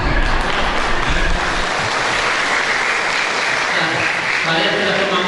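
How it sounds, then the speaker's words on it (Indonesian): Audience applause at a teachers' education festival workshop, a broad steady roar of clapping with a low rumble at the start and voices murmuring underneath. "tepuk tangannya kurang semangat"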